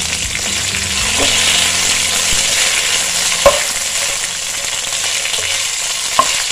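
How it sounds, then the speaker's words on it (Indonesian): Steady loud sizzling of spices, bay leaves, lime leaves and lemongrass stir-frying in hot oil, with a few sharp clicks of a utensil against the pan. "kita tumis sampai kecium aroma wangi."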